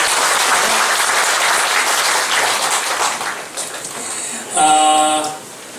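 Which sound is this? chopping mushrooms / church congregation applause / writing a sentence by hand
church congregation applause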